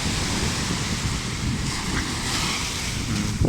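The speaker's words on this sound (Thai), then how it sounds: "คลื่นแรงครับลมทะเลสุดยอด" Strong sea waves crash and churn under heavy sea wind buffeting the microphone, a loud, dense, continuous roar at the beach in the late afternoon.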